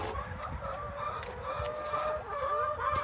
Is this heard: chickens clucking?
yes